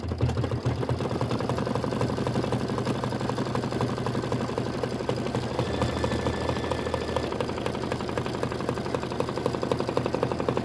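An embroidery sewing machine stitches a quilt block, a fast continuous mechanical chatter with a steady motor hum throughout, close and even in loudness, with no talking.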